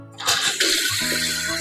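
Water gushes from a newly installed faucet over a kitchen sink with a strong, steady rushing flow that starts abruptly and keeps running.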